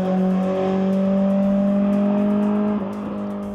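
A BMW E30 M3 engine revs on a racetrack, a sustained, loud tonal drone holding high revs before easing off near the end.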